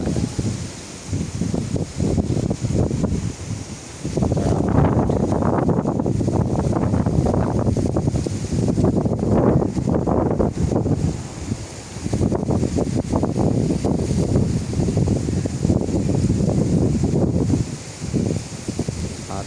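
Strong wind blows off the rough sea at Mathagal, thrashing coconut trees in loud gusting roars and buffeting the microphone in surges, with faint water sounds underneath.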